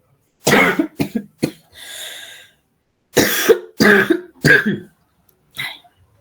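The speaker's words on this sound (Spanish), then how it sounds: "Todavía no me pasa la tos" A person coughs repeatedly in short, sharp bursts, with a raspy throat-clearing sound in between; close and fairly loud, with no talking.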